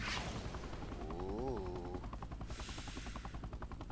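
A helicopter in the video game Base Battles makes a rapid, rhythmic rotor chop among bursts of gunfire, moderately loud and steady, with no talking.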